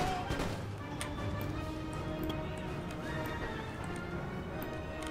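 Horses in the Empire Total War video game clatter with continuous clip-clopping hooves and repeated neighs and whinnies. The commotion stays loud and busy throughout a battle outside Moscow.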